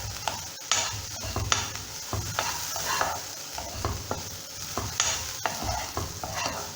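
Onions for a soup sauté in a pan while a spoon stirs them, giving a constant close sizzle broken by repeated scraping strokes and light clatter, with no voices.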